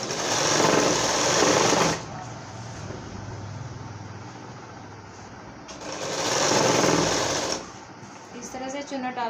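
A sewing machine stitches gathers into a petticoat in two loud, steady whirring runs, with a quieter stretch between them where a voice talks nearby.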